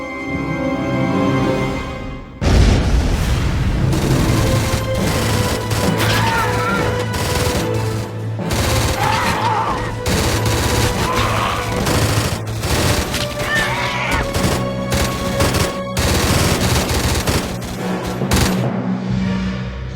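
In a Stargate Atlantis battle, a loud burst opens a long stretch of rapid automatic gunfire and blasts, dense and continuous with crashing impacts throughout.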